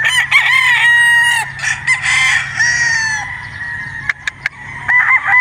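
A gamecock rooster, a Boston crossed with Possum, crows loudly and close in long, strained calls, followed by a few sharp clucks and knocks and another crow starting, against a low steady background hum.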